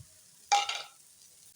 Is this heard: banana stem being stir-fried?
yes